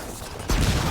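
Gunfire erupts in the Gears of War 4 PC campaign, a sudden loud burst of sustained shooting that begins halfway through and continues to the end.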